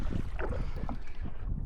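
A boat motor runs at sea off Pag Asa Island in the West Philippine Sea, a low steady drone mixed with wind buffeting the microphone and splashing water, with no other sound over it.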